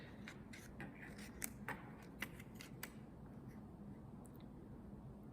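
Scissors snipping through folded paper for an iris folding project, a run of quiet crisp cuts clustered in the first three seconds, then faint rustling in a hushed room.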